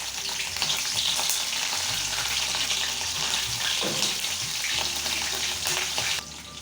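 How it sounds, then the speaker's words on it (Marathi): Green chillies frying in hot oil after peanuts for a potato chivda, giving a loud, continuous hissing sizzle with crackling bursts, close up and without talk. "आता आपल्याला या तेलावरती मिरच्या पण छान असं तळून घ्यायचं आहे"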